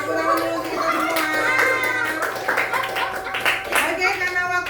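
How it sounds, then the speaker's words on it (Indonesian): A fifth-grade class of children claps together in a classroom, a busy, uneven patter of small hands alongside children's chatter and voices. "Tepuk tangan dulu kita semua"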